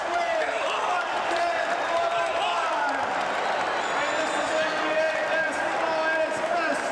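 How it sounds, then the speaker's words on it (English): Basketball arena crowd at a 1985 Celtics–Hawks game during a Boston timeout, a loud, steady roar of many voices filling the hall without a break. "We'll listen to the crowd"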